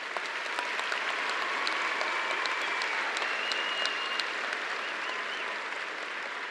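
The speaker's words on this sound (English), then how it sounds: "you're welcome to give all of your friends a round of applause" A graduation crowd at Arlington High School's 2014 ceremony gives a long, dense round of applause, an even roar of clapping that holds steady without letting up, with a faint tonal whistle drifting through.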